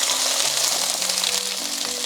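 Potatoes fry in a pan for Korean braised potatoes with anchovies, giving a loud, continuous sizzle close up, with faint tonal clinks in the background.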